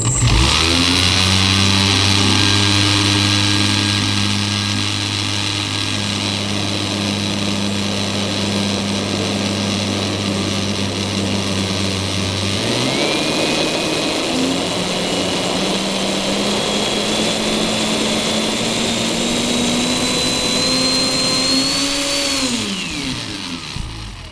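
A homemade soda can jet engine runs loud and close, a steady whining roar that holds, then shifts upward in pitch partway through, rises again and winds down at the end.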